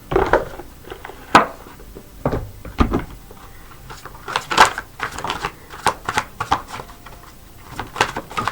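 Tarot cards are shuffled and pulled for a reading, with a run of dry, irregular papery flicks and slaps, close and fairly crisp, scattered across the whole stretch.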